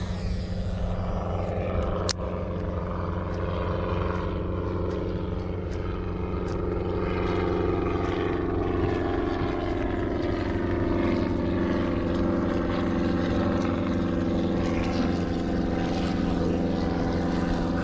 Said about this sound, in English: It's a freaking helicopter.